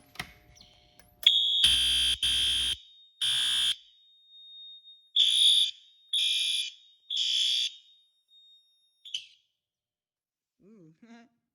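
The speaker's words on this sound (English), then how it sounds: "this is the loudest fire alarm made in America" A fire alarm being tested blares in loud, repeated harsh pulses with a thin steady tone underneath, stopping and restarting several times before falling quiet.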